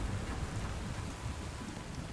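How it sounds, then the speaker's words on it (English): Rain falls steadily in the video game Satisfactory, a dense continuous hiss with low rumbling underneath, even in level and heard alone. "Funny how it's raining in a desert right now."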